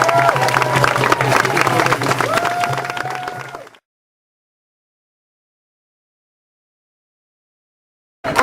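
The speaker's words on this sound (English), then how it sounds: "please give a big hand of applause to Lynn Bue" Crowd at a Canada Post strike rally for the Canadian Union of Postal Workers applauds and cheers a union speaker, dense loud clapping with crowd noise and voices for about four seconds, then abrupt silence before a brief burst at the end.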